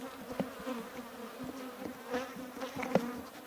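Honeybees buzz around a full beehive, a close, wavering drone with individual bees zipping past the listener in short passes, moderately faint.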